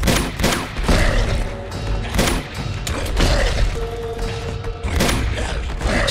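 Dense, loud gunfire from the Uncharted 2 video game, with bursts of automatic fire and heavy thuds repeating steadily through the scene and little pause between shots.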